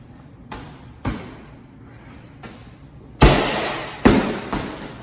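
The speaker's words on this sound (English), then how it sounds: "I'll show you two more really good wall balls just to remind you." Wall balls are thrown against a wall during a workout, landing as a series of sharp thuds at irregular intervals, the last few hits louder and closer.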